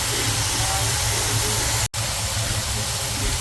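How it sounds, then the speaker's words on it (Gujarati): Food roasting in ghee in a pan gives a steady, close sizzling hiss that runs throughout, broken by a momentary cut near the middle. "હવે થોડી વાર આવી રીતે ઘીમાં રોસ્ટ કરી પછી સુગર એડ કરીશ."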